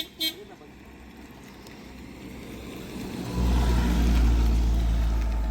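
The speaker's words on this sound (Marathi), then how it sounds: "हो गाडी येते" A car horn toots briefly near the start on a rural road by floodwater near Kasara and Khardi, followed by a vehicle approaching and growing louder with a low engine rumble at close range.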